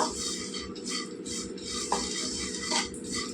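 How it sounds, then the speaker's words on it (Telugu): Watermelon seeds roasting dry in a pan, with fine steady crackling and scraping of stirring, plus a few brighter pops and clinks near the pan, no talk over it. "పుచ్చ గింజలు కూడా ఏగిపోయాయండి ఇవి కూడా చటపట్లాడుతున్నాయి చూడండి"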